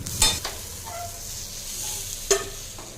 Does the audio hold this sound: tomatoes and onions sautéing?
yes